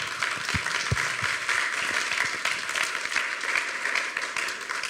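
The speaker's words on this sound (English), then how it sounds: "we deserve them a round of applause" A crowd applauds at an LA Pride community forum in July 2016, with steady, moderately loud clapping from many people in a meeting room and a few sharper individual claps standing out near the start.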